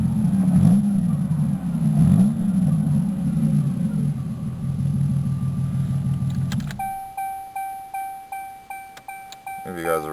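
A 1988 Oldsmobile Cutlass Ciera, with an alternator that charges the battery poorly, rumbles steadily at idle for about seven seconds and then cuts off. A repeating electronic warning chime follows, ringing clearly in regular pulses.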